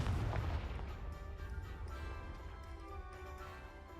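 A Confringo blasting curse goes off in a Hogwarts wizarding video game, giving a loud, booming burst at the start that settles into a rumbling, crackling tail over a steady game soundtrack.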